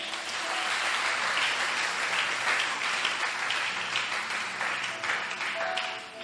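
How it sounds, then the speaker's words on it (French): A church congregation applauds in praise, a dense, steady wash of many hands clapping that holds for several seconds before tapering slightly at the end. "Tu peux acclamer le Seigneur."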